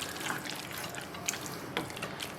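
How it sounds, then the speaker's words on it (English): Water is poured into a pan of tomato paste sauce, giving a soft, steady splashing and trickling with a few sharper drips and clinks. It is fairly quiet and there is no talking. "I'll thin this out with some water"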